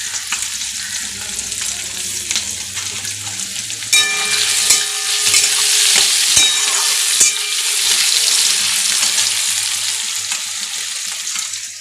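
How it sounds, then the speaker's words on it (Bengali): Potatoes hit hot oil with turmeric in a kadai. A softer background sizzle jumps into a loud, dense crackle as they go in, then keeps frying steadily with occasional stirring knocks. "কড়াইয়ে আমি একটু তেলের ভেতরে হলুদ দিয়ে দিলাম কারণ আলুগুলো ভাজার সময় বেশ কালারটা ভালো হবে আলুগুলো দিয়ে দিলাম"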